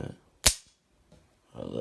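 A Heritage Rough Rider .22 single-action revolver fires one sharp, loud shot that rings briefly, with soft handling noises and a little background talk before and after.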